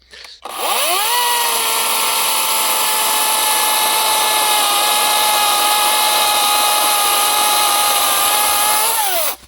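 A 36 V, 1.5 kW Vitals cordless chainsaw starts up and cuts live ash wood steadily for several seconds at a loud, constant pitch, then winds down at the end, with no talking.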